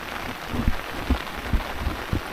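Rain falling steadily on a river during net fishing for pārshe fish, a soft continuous patter with a few heavier drops landing close by, no voices.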